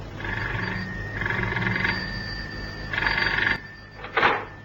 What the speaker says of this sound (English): Cannon had hardly put the phone down in the house in Sloane Street when it rang.